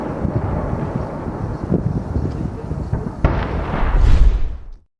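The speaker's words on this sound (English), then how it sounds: "The gun, which fires APFSD, armor-piercing fin-stabilized discarding sabot, and heat, high-explosive anti-tank rounds, has a firing rate of 12 rounds a minute" The main gun of a French Leclerc tank fires in a heavy, booming blast that swells and then dies away quickly, heard through rumbling outdoor wind noise on the microphone.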